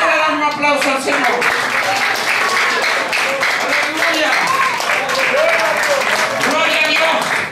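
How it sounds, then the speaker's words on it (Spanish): A church congregation applauds during an evangelical service, loud dense clapping sustained throughout with voices mixed in. "Vamos a dar un aplauso al Señor"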